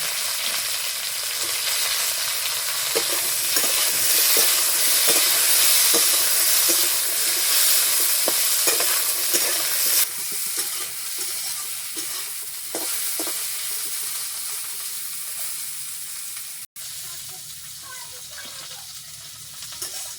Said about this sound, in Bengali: পটল আর ভিন্ডি একসাথে হালকা করে ভেজে নেব।